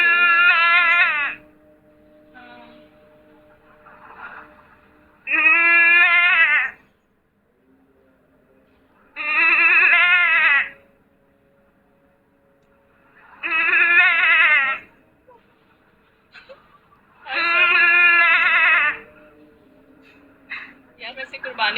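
A voice imitates a goat, giving five loud, drawn-out wavering bleats spaced a few seconds apart. Quiet murmuring and room noise fill the gaps between them.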